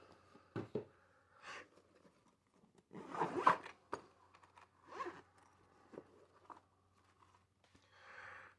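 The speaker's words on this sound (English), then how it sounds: "Comes in a nice little zip-up carry case." Zipper on a zip-up carry case for a DNT Hydra HS635 thermal scope, several short quiet zipping strokes with a longer pull in the middle, close and alone.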